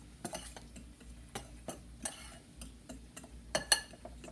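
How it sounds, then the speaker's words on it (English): Seasoning is mixed into flour with a utensil, giving soft, irregular scrapes and ticks against the bowl at close range, with a sharper knock toward the end, with no talk. "Then I just add all of this deliciousness to our flour. And then you just mix it"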